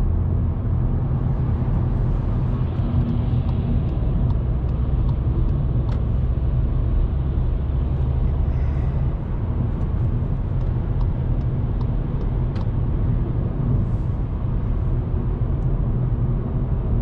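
Steady low-frequency engine and road rumble inside a 2019 Volkswagen Polo 1.0 TSI while driving, continuous and even throughout with faint tyre hiss and no talking.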